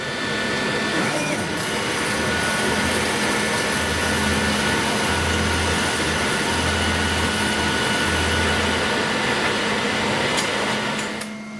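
Laser cutter cutting a jigsaw puzzle with strong air extraction pulling air through the cuts, heard as a steady, loud, broadband whooshing roar that holds throughout before easing slightly at the end.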